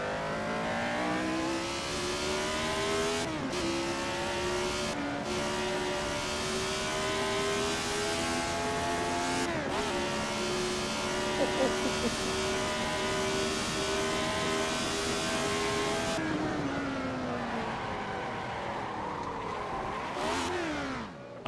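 Racing engine of a 1970s car without downforce in the Assetto Corsa sim, loud and continuous, with rising and falling revs through several gear shifts and a sharper rev flare near the end.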